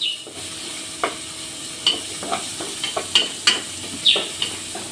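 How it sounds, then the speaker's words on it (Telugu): Ground onion masala frying in a pan with a steady sizzle and close, repeated stirring scrapes at an uneven rhythm, loud and near with no voices. "ఇలా పచ్చివాసన పోయే వరకు ఫ్రై చేసుకోవాలి"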